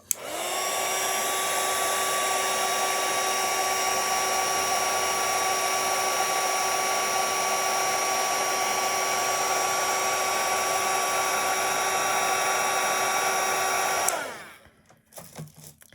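A hair dryer drying watercolor paint on a moth painting runs as a loud, steady whine and blowing roar for about fourteen seconds, then cuts off, leaving a faint rustle.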